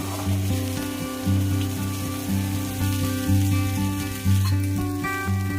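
Steady oil sizzle as okra is sautéed in a pan for a coconut milk kuzhambu, with a low tonal hum running underneath throughout.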